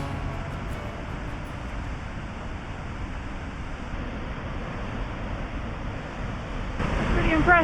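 A Scottish waterfall at the bottom of a steep climb, off the NC500 route, gives a steady, loud broadband rush of falling water that fills the whole stretch, rising slightly near the end.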